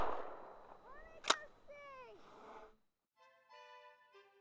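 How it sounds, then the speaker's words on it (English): A 12-gauge shotgun fired at capacitors on a VCR DVD player: one sharp, loud blast cracks out mid-clip amid whistling, chirpy tones, before the sound drops to near silence with faint ringing tones. "We're about to blow a whole bunch of little capacitors, and we're going to blow them on a VCR DVD player."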